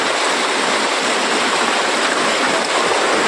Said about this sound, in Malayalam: പുറത്ത് നല്ല മഴ കേട്ടോ, ഇടി ഒക്കെ ഉണ്ട്.